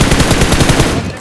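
Rapid automatic gunfire in a battle-royale style video game, a dense loud burst of repeated shots in quick rhythm that cuts off near the end, with faint voice chat underneath.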